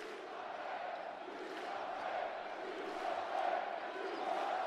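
A basketball arena crowd roars in a sustained cheering battle, a loud, continuous wall of voices with rising swells, heard from within the stands.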